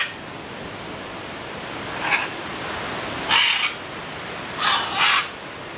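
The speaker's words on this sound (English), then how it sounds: "here you can see and hear the parrots" Wild parrots on a beach in Costa Rica give several short, harsh squawks, some in quick pairs, over a steady hiss of surf and wind, moderately near.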